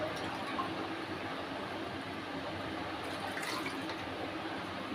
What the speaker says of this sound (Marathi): आणि 5 मिनटं असं छान अजून थोडं पाणी घालू.